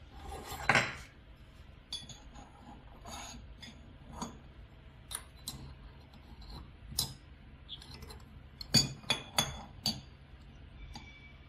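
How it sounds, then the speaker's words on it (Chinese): On a KN-5800Z automatic evaporation loss tester, a metal pot lid is unhooked and opened: sparse, close metallic clicks and clinks ring out one by one against a quiet background. "然后把锅盖打开。"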